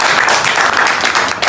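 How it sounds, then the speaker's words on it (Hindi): Dense, loud crowd applause erupts for the ILF at a political rally, a continuous roar of many hands clapping close by throughout the short stretch. "आईएलएफ के लिए तालियां"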